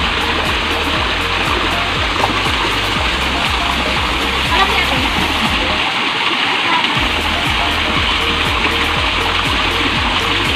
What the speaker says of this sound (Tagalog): May mini falls doon.